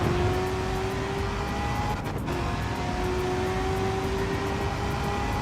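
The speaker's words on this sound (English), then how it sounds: "the sound of this car is very odd" A car engine in Gran Turismo 7 holds a steady, tonal drone with a slight pitch climb, dipping briefly midway before carrying on at an even level.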